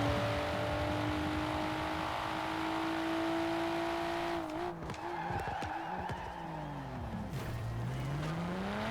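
A Nissan Skyline R32 on a flying racing lap at full throttle, its engine note climbing loud and close, then dipping and rising again as tires squeal through a corner.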